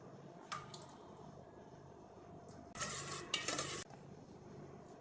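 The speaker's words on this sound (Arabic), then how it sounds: "ده انا فرغت البطاطس المبشورة مع البيض ومع اللبن مع الزيت، قلبتهم كلهم" A spoon stirs grated potato, eggs, milk and oil in a bowl with a soft wet squish. A brief, brighter scraping clatter of utensil against the dish rises in the middle, all faint and close.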